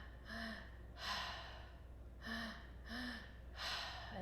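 Active breathwork exercise: five deep breaths, each a sharp inhale into the belly and chest followed by a forceful exhale, repeating in a steady rhythm, close and alone.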